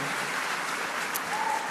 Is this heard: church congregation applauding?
yes